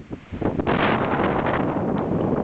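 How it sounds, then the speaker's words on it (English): Strong blizzard gusts roar and buffet the microphone in a steady, rushing blast at Alyeska Resort, Alaska, rising after a brief quieter start and staying loud throughout. "Yeah, it's windy and snowy."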